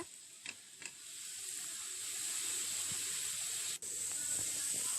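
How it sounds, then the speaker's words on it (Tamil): Steady sizzling hiss of tulsi leaves sautéing in a hot pan, continuous and fairly soft, with a couple of faint clicks near the start. "ஒரு கைப்பிடி அளவு துளசி இலைகளை நல்லா கழுவிட்டு இப்படி பாத்திரத்தில் போட்டு வதக்குங்க"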